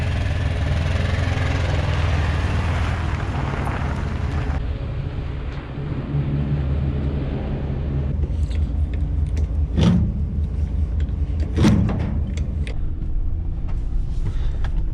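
A pickup truck's engine idles with a steady low rumble close by on a dairy farm, with a brief thump and a couple of sharp knocks or clunks in the latter half.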